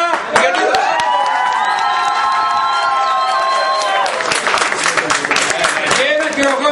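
A crowd at a live magazine event cheers, whoops and claps for invited guests, loud and close throughout, with shouting voices and a brief tonal whistle or horn near the start.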